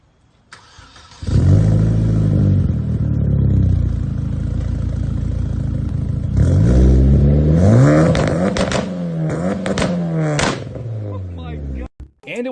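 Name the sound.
turbocharged Chevy Cobalt SS four-cylinder engine accelerating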